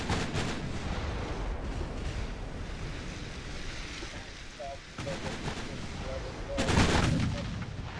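Naval guns boom in the warship game Ultimate Admiral: Dreadnoughts, with several heavy, distant-sounding shots spaced out over a steady wash of sea and wind ambience.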